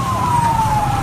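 A fire truck siren wailing loudly with a slowly falling tone, over a rumbling engine and traffic noise, at a residential fire in Quezon City.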